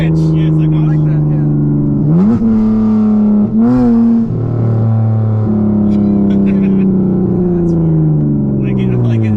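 A tuned V6 Dodge Charger engine revs and downshifts, its loud droning note rising and falling through several sharp pitch swoops, heard close for nearly ten seconds.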